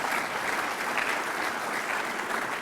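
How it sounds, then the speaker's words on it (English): Audience applause at a university school of education event, a dense, sustained wash of clapping from a large crowd, loud and even throughout with no speech over it. "So I think a round of applause is due to our faculty and our administrators here"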